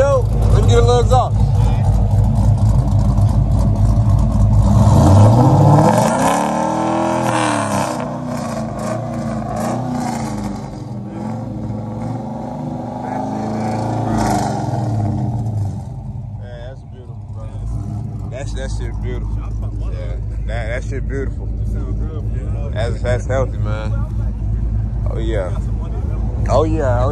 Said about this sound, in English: Let me get a little exhaust.